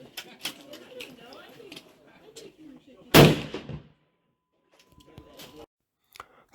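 A single sharp, loud 300 Weatherby rifle shot at a shooting range, firing 200 gr Accubond bullets over 81 grains of 7828 powder, booms midway and rings off. Someone talks before it, with quiet handling noise after.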